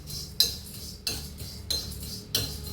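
Flattened rice (aval) roasting in a pan as a metal spoon scrapes and stirs it, giving four sharp clinking strokes at a steady rhythm over a low sizzling bed, close and fairly quiet.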